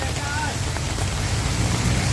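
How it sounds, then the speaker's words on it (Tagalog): Heavy rain with wind falls in a constant, dense roar, close and loud, with a deep low rumble underneath and no pauses. "medyo malakas ang ulan"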